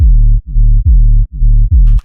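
Riddim-style square-wave sub bass with a drastic pitch-down envelope, five heavy low notes in a steady pulse, each diving sharply in pitch at its start, alone and loud, with a brief faint noise at the very end.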